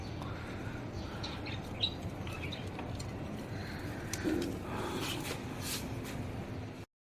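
Pet pigeons coo softly at a home, with faint bird calls and light shuffling over a steady background hiss, no voices present.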